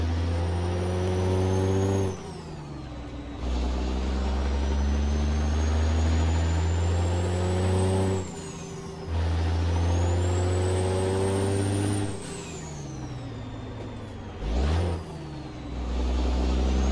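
A rebuilt Outlaw 359 truck in American Truck Simulator runs its engine with loud, deep droning revs that climb through several gears, each rise broken by short drops as it shifts.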